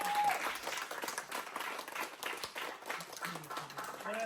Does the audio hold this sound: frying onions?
no